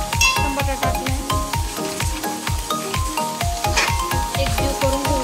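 Onion and tomato sizzling in a pan, heard under rhythmic repeated tonal pulses like background music, steady and fairly loud.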